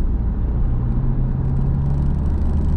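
A learner driver's car accelerates at full throttle in third gear, a steady, close engine drone heard from inside the cabin with its tone climbing slightly as revs build.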